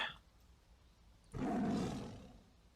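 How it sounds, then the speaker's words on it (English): A deep, rumbling lion-like roar, used as a sound effect in a tabletop game jungle cave adventure, bursts in suddenly partway through after near silence. It swells loudly, then slowly fades. "you guys hear a low rumbling roar from the bushes to the left of McGinnis and Tokala"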